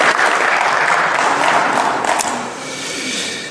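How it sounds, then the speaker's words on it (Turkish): Dense, sustained applause fills the Turkish parliament chamber, many hands clapping at once in a steady roar that eases slightly toward the end. "İyi alkışlasınlar Sayın Bülbül'ü."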